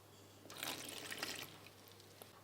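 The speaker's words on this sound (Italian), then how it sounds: "115 g di acqua fredda" Cold water poured into a stand mixer bowl holding flour for panettone dough, a faint, brief trickle and splash under a steady low hum.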